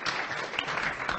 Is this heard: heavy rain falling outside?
no